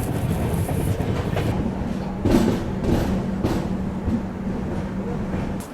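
A Shree Mata Vaishno Devi–Gandhidham Sarvodaya Express arriving at Pathankot junction rumbles steadily with a loud, continuous roar and wheel clatter, a few louder bursts rising briefly over the constant rolling noise, with no talking.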